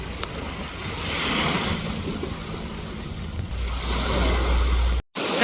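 Big sea waves and wind roar steadily around a small fishing boat out at sea, a continuous loud wash with heavy wind buffeting on the microphone and a brief dropout near the end.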